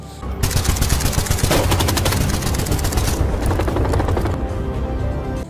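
Sustained automatic gunfire rakes a shopkeeper in a robbery scene from an action film, a masked gang firing a dense, loud burst of rapid shots that continues almost unbroken for several seconds.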